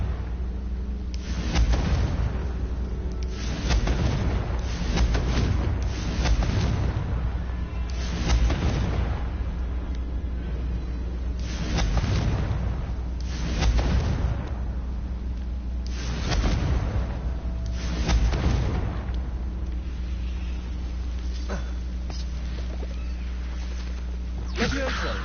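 Confringo fire spells detonate one after another in Hogwarts Legacy, a run of deep booming blasts at a roughly regular pace. Steady game music and ambience play beneath the blasts.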